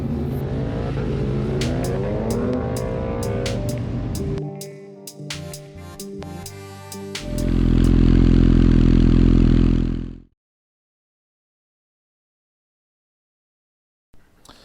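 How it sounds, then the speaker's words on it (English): A 1996 Suzuki GSX-R 750 SRAD track bike engine runs loud and close, with rising revs, then a sustained high-rev drone that cuts off abruptly into silence, followed by a faint clatter at the very end. "I'm happy to say that the engine is running super much better."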